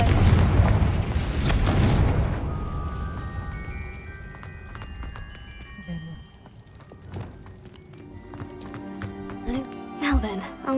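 Fiery blasts of the Confringo spell in Hogwarts Legacy: a loud rumbling boom opens, then decays into softer bursts, tonal chimes and scattered impacts, ending in a cluster of sharp hits.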